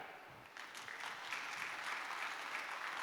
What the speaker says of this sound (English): a big applause for that